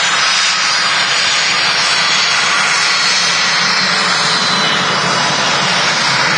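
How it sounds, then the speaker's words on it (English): An EasyJet Airbus A319 jet arriving at Manchester Airport from Palma de Mallorca, its engines producing a loud, steady broadband roar that holds at high intensity throughout, with no talk over it. "we've got a EasyJet A319 coming in from Palma de Mallorca"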